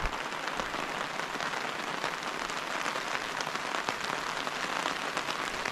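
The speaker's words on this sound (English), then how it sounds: "the rain clouds have opened up." Steady rain pours down in a dense, even hiss of countless drops pattering on surfaces nearby, with no voices.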